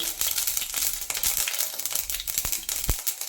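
Mustard seeds crackling and popping in hot oil in a home kitchen, a dense run of small sharp pops and sizzles, close and steady, with no talk.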